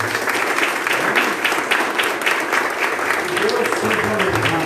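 A church congregation applauding during a communion service, dense, loud and sustained clapping from many people, with a voice murmuring underneath toward the end.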